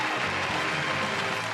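A studio audience applauds and cheers for the host at a producer's choice awards show, a dense, steady wash of clapping and crowd noise holding at an even level throughout.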